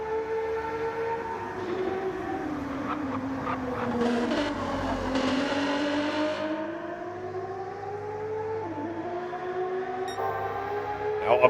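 Race car tires squeal under hard oversteer in a racing video game at Kyoto Driving Park, a continuous wavering high-pitched screech layered over a rising and falling engine drone.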